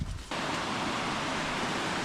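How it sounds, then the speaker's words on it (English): A waterfall pours in the woods on the way to Wynoochee Falls, heard as a steady, dense broadband rush of falling water that runs unbroken through the whole stretch after a brief quieter moment at the start. "there's a waterfall there that I never would have seen before if I hadn't parked here"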